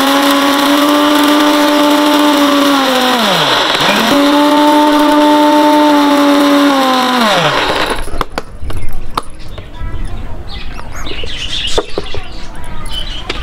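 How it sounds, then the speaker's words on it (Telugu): An electric mixer grinder grinds dried turmeric pieces into powder, a loud steady motor whine that dips and recovers mid-run, then cuts off, leaving quiet clatter and handling noises. "మళ్ళీ ఒకసారి మిక్సీ చేసుకుందాం"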